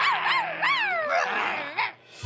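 Cartoon voices imitating the growling of an Ursa Major, whiny yelping howls that rise and fall in several overlapping sweeps, close and loud.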